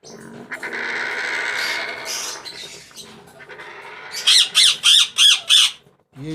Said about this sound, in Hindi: ये दोनों मेरे पास ग्रे ब्रीडर पेयर हैं।